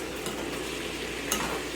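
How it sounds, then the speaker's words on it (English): Continuous crackling sizzle of squash frying in a pan on high heat, fairly close and steady, with a faint utensil scrape midway; no talking. "Can you hear the sizzle?"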